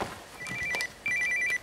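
A telephone rings with an incoming call in a domestic scene, giving two short electronic trilling bursts separated by a brief pause, fairly quiet and close.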